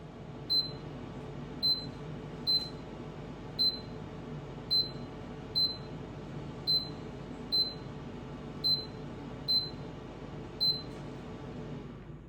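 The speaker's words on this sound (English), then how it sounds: "it was there making this little beeping sound" Short electronic beeps from a Tower 9-litre two-drawer air fryer sound at a steady rhythm, roughly once a second, sharp and clear above a low background hum.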